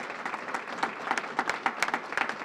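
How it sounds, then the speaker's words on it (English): Crowd clapping at an SEIU union rally outside the Local 615 offices, a moderate, uneven patter of many hands with individual claps standing out, somewhat distant and without talk over it. "So let's give them an applause."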